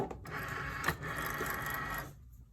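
A vinyl cutting machine slicing a wine bottle label design gives a steady mechanical whir with a faint rhythmic buzz, close and even for about two seconds before it cuts off abruptly into near silence.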